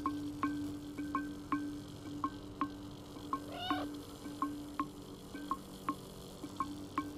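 A cat meows once in the Stray video game. The single drawn-out meow rises over a steady pattern of soft, regular ticks and a low background hum, with no talking.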